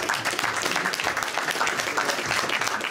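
A crowd at a talk-show salon evening claps in a steady, dense round of applause, fairly loud and even throughout the short stretch, with no speech over it.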